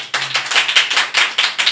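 An audience claps in a lively, fairly loud burst of rhythmic applause, the hand claps landing in quick, near-regular pulses for a couple of seconds, with no voices over it.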